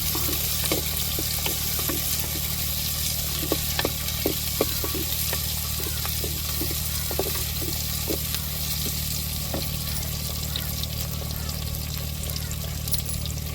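Cut small tomatoes and chillies frying in a pan for a chicken kurma, a steady close sizzle with scattered soft stirring clicks throughout, no talking.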